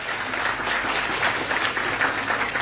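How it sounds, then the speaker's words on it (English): Auditorium audience at IMS Ghaziabad gives a warm welcoming round of applause, a steady, fairly loud patter of many hands clapping throughout. "May we have a huge round of applause for him."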